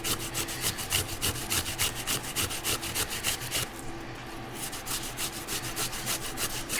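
Jicama rubbed by hand over a grater in a kitchen, with rapid, regular rasping strokes that pause briefly midway and then resume at a steady rhythm, close and alone.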